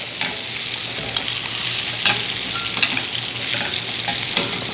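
A steak sizzles in a pan while being basted with melted butter. Vigorous, continuous frying dominates, with sharp spoon-against-pan scrapes recurring every second or so and no voices.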